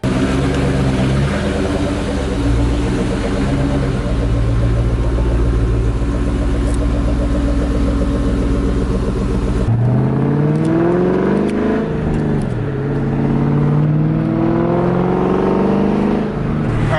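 A car with air suspension on a short test drive after an air leak repair, its engine droning steadily and loud throughout, with a rising shift in engine pitch partway through.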